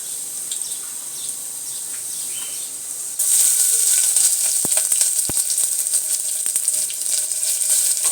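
Garlic and onion hit hot oil in a pan, and a quiet background gives way to a sudden bright sizzle that keeps crackling, with a few sharp clicks and taps from the cookware.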